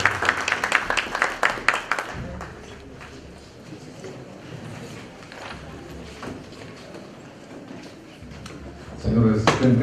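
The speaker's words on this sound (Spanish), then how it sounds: "Demos un aplauso al doctor Juan Belfort Zárate del Pino" An audience of notaries at a national meeting in Ayacucho claps briefly at the start, a burst of close, crisp applause that fades out within two seconds, after which a voice speaks over a quiet room.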